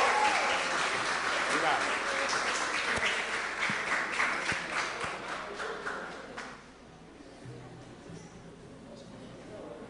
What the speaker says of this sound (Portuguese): Mais uma palma para ele, gente.